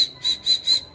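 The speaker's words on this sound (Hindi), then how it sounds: "नाक से सीटी" A thin, high whistle comes from a person's nose, repeating in three quick, evenly spaced bursts that sound close and clear with nothing else heard.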